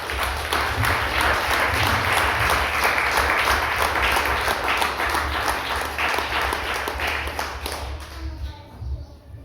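A church congregation applauds together during a service, a dense, sustained wash of clapping over a low hum that thins out and fades near the end.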